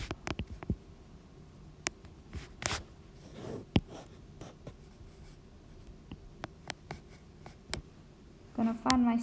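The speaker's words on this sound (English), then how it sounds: "So I'll draw a circle really quickly." A pencil sketches on paper with brief scratchy strokes and light taps, scattered and quiet, ending in a short cluster of denser scribbling.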